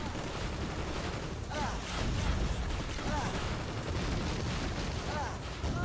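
Dense, continuous battle noise from the Robowars video game: machine guns, lasers and bombs going off in overlapping bursts and booms, loud and unbroken throughout.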